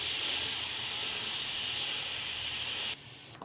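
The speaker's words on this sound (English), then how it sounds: "I wonder if I let a bit of air out of the tyre." Air escaping from a brand-new tyre as pressure is let out: a loud, steady, close hiss that holds for about three seconds, then cuts off abruptly to near quiet.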